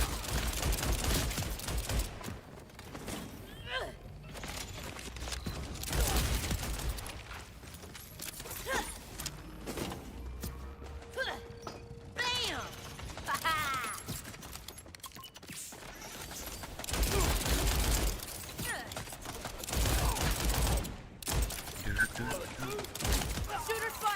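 Shotgun fire in Borderlands 4, with an incendiary Jakobs shotgun among the weapons, heard as scattered sharp blasts and bursts of gunfire over game noise, with a voice talking at times.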